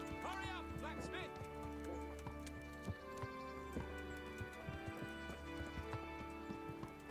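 Horse hooves clip-clopping at a trot in the medieval game Kingdom Come: Deliverance, a steady patter of hoofbeats heard under game ambience and a voice talking over it.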